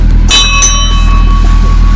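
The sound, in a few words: ringing a bell on a boat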